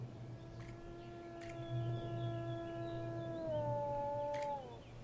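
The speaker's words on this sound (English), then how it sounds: "A wolf's howl can be heard from 10 kilometers away." A wolf howls in long, smooth, sustained tones that slide slightly in pitch, carrying clearly over a faint low hum with no other voices.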